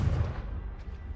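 In Hogwarts Legacy, a Confringo blasting spell goes off as a single heavy, booming explosion with a deep low rumble that decays over about a second.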